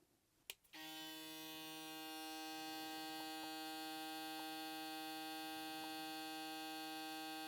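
A BaByliss Dual Coil hair clipper with a double vector motor switches on after a short click and runs with a steady, even buzzing hum that holds unchanged to the end, close by and moderately quiet.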